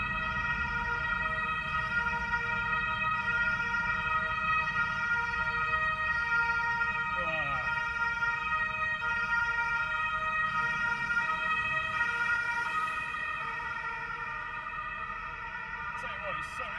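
An emergency vehicle siren wails through busy German city traffic, a steady sustained tone hanging over constant road rumble and engine noise, fairly prominent and not far off.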